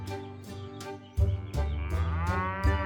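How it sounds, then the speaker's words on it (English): A cow moos in a short series of deep, drawn-out lowing calls, close and clear, with no talk over them. "And I moo too, said her baby calf."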